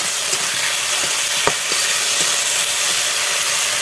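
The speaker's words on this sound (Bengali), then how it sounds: "এটা আলুর সঙ্গে একসঙ্গে ফ্রাই হবে," Potatoes frying together with ground tomato paste in a pan for a Bengali-style egg and potato curry, a steady dense sizzle with a few faint stirring clicks, no talking.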